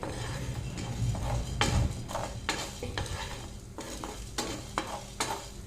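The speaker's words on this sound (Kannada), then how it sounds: "ಒಂದು ಟೇಬಲ್ ಸ್ಪೂನ್ ಕೊತ್ತಂಬರಿ ಕಾಳು ನಾನೆಲ್ಲವನ್ನು ಒಂದೊಂದಾಗಿ ಫ್ರೈ ಮಾಡ್ತೇನೆ" Coriander seeds frying in a pan with a soft, steady sizzle while a spoon stirs and scrapes them in repeated strokes, close and clear with no talk.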